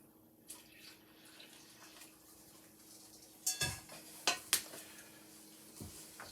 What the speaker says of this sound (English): Then the water goes on top.